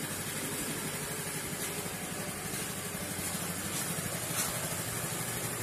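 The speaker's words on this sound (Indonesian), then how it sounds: "Kunci sudah on, kita starter. Motor langsung hidup normal kawan-kawan." A Honda Vario 110 scooter with a white-smoke fault idles right after starting, giving a steady, continuous engine drone with faint rattle, close and constant throughout.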